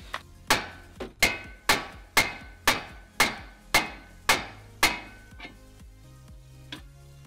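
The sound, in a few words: hammering ball joint stud on Nissan 240SX suspension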